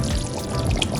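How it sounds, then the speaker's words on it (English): Turkey neck, crab and shrimp go into a pot of Liberian fried cassava leaf, giving a loud, steady wet pouring and sloshing sound that runs throughout with no talking. "I'm gonna go ahead and add in the turkey neck and the rest of the other the crab and the shrimp"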